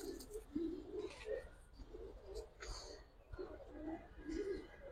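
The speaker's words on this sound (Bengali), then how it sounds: "অনেক পুরানো ব্লাডের কবুতর ভাই।" Budapest giribaz pigeons cooing steadily in repeated soft, low calls, close and overlapping, with light rustling in the background and no talk.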